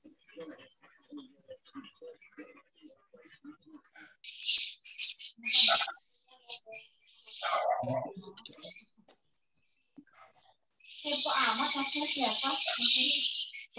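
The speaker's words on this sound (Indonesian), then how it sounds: "Kedengeran ya burungnya ya?" Bright high chirping song of a caged pet bird in bursts, loudest near the end, with people talking nearby between and under the calls before a memorial Mass.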